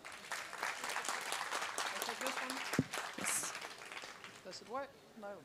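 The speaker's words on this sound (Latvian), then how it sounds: "Aplausi!" Audience at a European Parliament Ambassador School graduation ceremony breaks into sustained, dense applause filling the room, with a voice speaking over it near the end.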